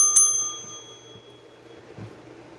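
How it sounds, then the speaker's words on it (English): A bright bicycle-style bell rings once near the start of a live rock sale, its ring clear and close before trailing off into a quiet room with faint low background noise. "Again, you get the bell."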